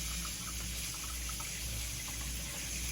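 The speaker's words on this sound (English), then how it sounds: "I'm gonna drain the water out" Steady water drained from a pot of stewed lamb pours and splashes continuously into a sink, a constant broadband rush with no voices.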